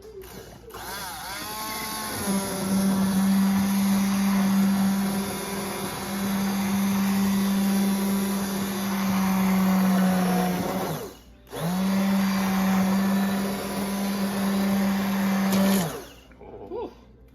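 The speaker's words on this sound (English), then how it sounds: "All right, Justin wanted to try this blender thingy" An electric blender purees cooked tomatoes for spaghetti sauce, running as a loud, steady whir for several seconds, cutting out briefly, then running again before stopping.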